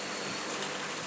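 Steady rain falling during the rainy season, a dense, even hiss of drops on surfaces, close and continuous through a short stretch.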